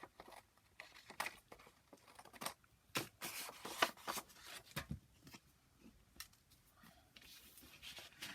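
Scissors or a craft blade trimming covering material on a handmade journal cover, heard as scattered close, crisp snips and rustles in irregular bursts, faint, with no talking.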